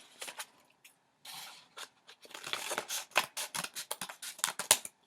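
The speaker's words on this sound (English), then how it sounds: "you're going to want to cut out like a W shape for the wings" Scissors snip through paper to cut a W shape for bat wings in a Halloween craft, with a quick run of crisp, close cuts, a brief pause, then denser snipping and rustling paper.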